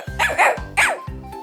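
A person imitating a dog's bark: three quick, close, yappy woofs evenly spaced, loud and convincingly doglike with no other voices.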